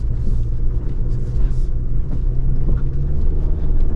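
A 2024 GMC Canyon AT4X AEV Edition pickup driving off-road through sand gives a steady low engine rumble with faint tire and body noise, close and continuous throughout.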